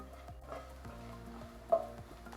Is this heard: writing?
no